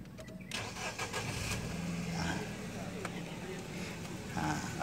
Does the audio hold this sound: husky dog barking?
no